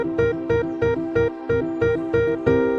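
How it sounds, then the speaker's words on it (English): A C dominant seventh chord is struck eight times in a steady, even rhythm, each attack ringing full and clear with no other sound around it. "so I played C dominant 7"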